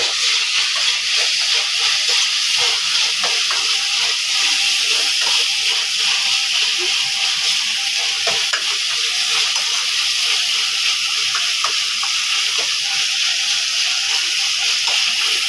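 Ingredients sizzle steadily in hot oil while being sautéed and stirred in a pan, a dense continuous hiss holding at an even level throughout with no talk over it.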